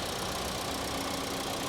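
A 2.5-liter four-cylinder car engine idles in a steady, continuous drone that stays loud and even throughout, with no voices over it.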